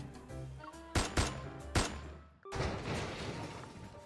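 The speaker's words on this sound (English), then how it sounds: "Suddenly, several gunshots ring out, piercing my eardrums." Several sharp gunshots crack in quick succession in the video game Love and Deepspace, followed by a louder burst of noisy crashing and rumble, with no voices.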